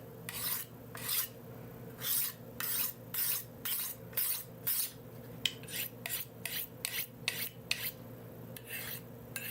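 Repeated rasping strokes of a knife being sharpened, about twenty short scraping passes in an uneven rhythm, faster toward the end, close and clear with no voices.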